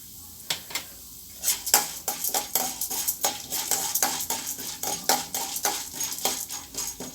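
Urad dal goes into a pan of frying coriander with a rapid series of sharp metallic clinks and scrapes from a spoon against the pan, repeating rhythmically over a light sizzle, close and clear.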